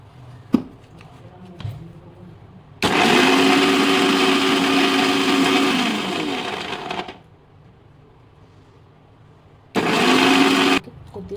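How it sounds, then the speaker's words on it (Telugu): An electric mixer grinder blends ice cream mix with condensed milk in two loud bursts: a whirring run of about four seconds, a pause, then a short one-second pulse, with small clicks and handling sounds between. "ముందుగా అయితే దీన్ని ఒకసారి మిక్సీ పట్టేద్దాము"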